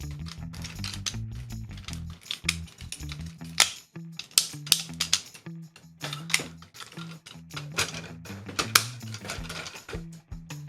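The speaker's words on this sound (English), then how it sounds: "And then click it into his octagonal shoulder joint." Small plastic clicks and snaps as a Tobot V Ultra Commander kaiju robot toy's arm is pushed into its octagonal shoulder joint, a cluster of sharp close ticks over a low steady hum.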